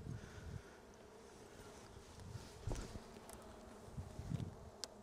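Steady buzzing of many honey bees around a Flow Hive, close and continuous, with a few louder passes of individual bees near the microphone.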